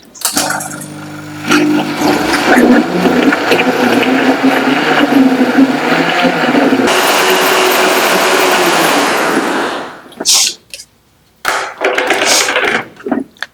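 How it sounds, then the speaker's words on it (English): A mixer grinder whirs loudly and steadily for about ten seconds grinding peanuts with water into paste, its pitch shifting partway, then stops and restarts in short bursts. "grind them in the mixie till they become a smooth paste"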